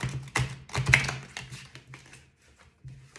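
Tarot cards being shuffled make close, crisp bursts of riffling and tapping in quick clusters, then fade into a brief pause before a final flutter.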